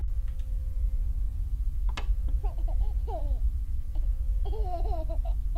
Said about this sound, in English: Okay, happy baby.